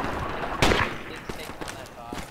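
Gunfire in the video game Project Reality, with one loud close shot followed by several quieter, scattered shots further off, mixed with faint in-game noise.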